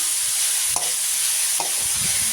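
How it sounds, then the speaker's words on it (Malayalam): Spinach frying with onion in a pan for a Kerala thoran, a steady close sizzle with a couple of stirring scrapes, no voices. "ചീര നന്നായി ഇളക്കി കൊടുക്കാം"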